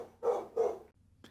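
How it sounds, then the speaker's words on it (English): Dogs barking indoors in the background: two loud, full barks in quick succession, then a brief fainter yelp after a short pause, with no talking. "the dogs just decided to start barking"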